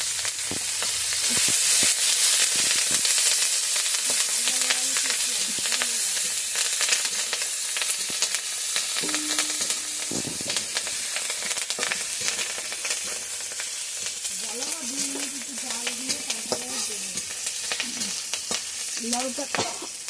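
Garlic, bay leaf and a heap of green chillies frying in hot oil: a loud, continuous crackling sizzle with busy stirring clatter throughout, and a faint voice surfacing now and then in the background.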